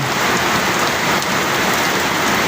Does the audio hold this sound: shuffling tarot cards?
no